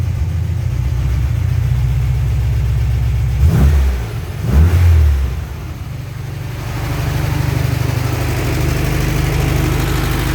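A VW Beetle engine with a carburetor idles with a steady low rumble, then revs hard twice in quick bursts before settling back to idle, loud and close.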